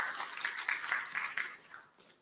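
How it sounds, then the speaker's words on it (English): Audience at an IETF106 SECDISPATCH meeting applauds a new co-chair, a brief burst of many hands clapping at moderate volume that tapers off after about two seconds. "Can we have a round of applause for her"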